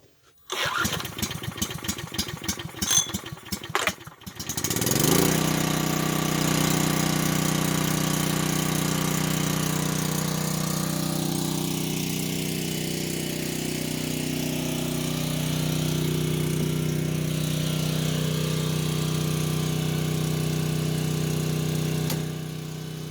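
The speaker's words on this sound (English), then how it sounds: "Fire the generator up and come see if the lights work." An old generator, left unused for six years, is pull-started with a few rough sputters and then settles into a loud, steady running drone close by that carries on for nearly twenty seconds.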